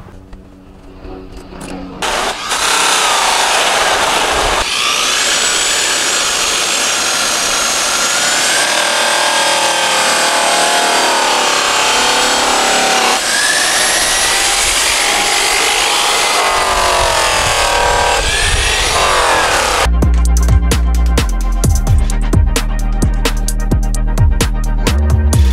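An aluminum dually wheel buffed with a green and purple polishing wheel and green compound: a loud, steady motorized whine and rubbing drone that runs for most of the stretch, ending in a harsher rattling grind.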